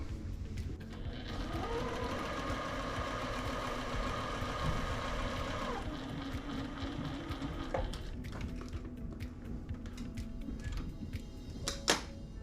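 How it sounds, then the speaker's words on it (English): Sewing machine stitching a quilt seam, a close mechanical hum and whir that runs in bursts with brief pauses, followed by faint handling clicks near the end. "we are going to sew just a thread's breadth on the right side of this line"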